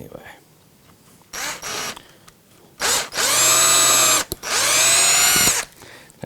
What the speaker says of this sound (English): Now all I'm doing is drilling